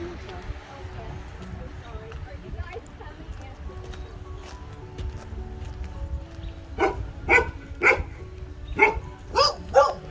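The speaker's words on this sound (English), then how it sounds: "There's the puppies" Several puppies bark and yip in a quick cluster of short, bright bursts near the end, close by and fairly loud, following a stretch of outdoor rustling with a person talking.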